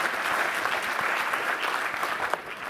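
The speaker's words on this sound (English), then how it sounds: "Give it another applause," Audience applause at the Google Premier Partners Awards 2019, a dense, steady wash of clapping from a sizeable crowd lasting the whole moment, close and fairly loud with no speech over it.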